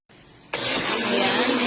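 A kitchen blender whirs to life on soup made with Quaker oats, pepper and water: a brief low start, then a sudden loud, steady whirring.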